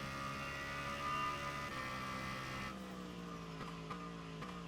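A race car in a Formula Vector racing game accelerates toward a hairpin on the Jeddah F1 circuit, its engine whine climbing steadily through the gears with a couple of quick shift dips, steady and fairly close.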